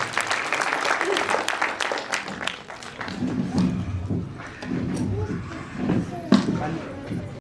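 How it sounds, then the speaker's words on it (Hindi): Audience applause welcoming a poet on stage at a kavi sammelan and mushaira in Jodhpur, a steady wash of clapping that runs the whole stretch, with a voice talking over it. "जोरदार तालियों से आपका अभिनंदन, स्वागत।"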